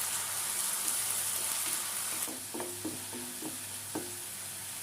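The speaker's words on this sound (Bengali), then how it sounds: "পেঁয়াজ বাটাটা দিয়ে আমি একটু ভেজে নেব।" Onion paste fries with whole garam masala in a pan, a steady soft sizzle with a few stirring scrapes near the end, no voices.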